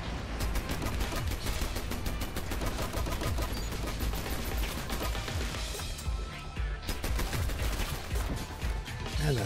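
A Dirty Bomb airstrike pounding the area, a dense barrage of rapid blasts and crackling impacts sustained for several seconds, loud and close with no voices.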